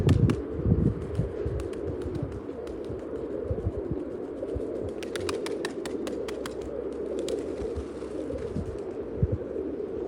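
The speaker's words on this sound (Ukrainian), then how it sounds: "Голуби гудуть, да." Pigeons coo softly and repeatedly at close range in Myrnohrad, Donetsk Oblast, their low, throaty calls rolling on over a faint outdoor background with occasional light clicks.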